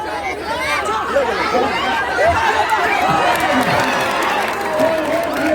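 A dense, continuous murmur of spectators fills the ground at a kabaddi match between Gopalpur and Joginder Giri Kemathiya, crowd chatter and scattered calls staying close and loud throughout, with a commentator speaking over it.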